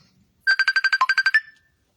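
A phone ringtone trills close and loud as a rapid burst of about a dozen bright, even electronic pulses lasting about one second, then stops into silence.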